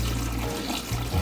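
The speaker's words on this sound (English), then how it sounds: "I'm only going to add enough water to just barely cover the bones" Water pours into a pot of bones for bone broth as a loud, continuous rushing splash with some gurgling, close by and with no talking.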